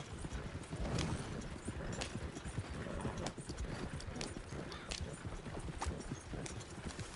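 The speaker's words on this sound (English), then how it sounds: "I can let the horse go on its full potential" A ridden horse clip-clopping steadily at a brisk pace, its hoofbeats loud and close and continuing without a break.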